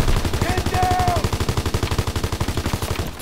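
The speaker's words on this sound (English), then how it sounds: "Who is shooting?" Rapid automatic gunfire in a video game, a dense run of regular shots firing close and loud without a break, with a short whistling tone passing over the early bursts.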